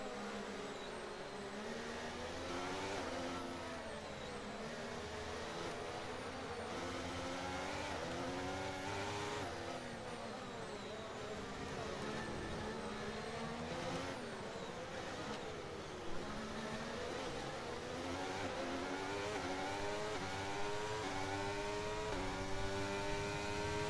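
Formula One race car engines screaming around the Miami circuit in F1 23, a continuous high-pitched whine that rises and falls through gear changes, with other cars' engines layered in and no voices.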